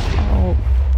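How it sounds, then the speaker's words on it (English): Minecraft creeper explosion during a mini-game match, a loud booming blast with heavy low rumble filling the whole moment, with a brief voice-like tonal sound over it. "Creeper is going to use the explosion."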